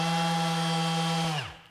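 A Milwaukee 12V random orbital sander runs alone at a loud, steady high whine, then switches off and spins down, its pitch falling away over the last half second.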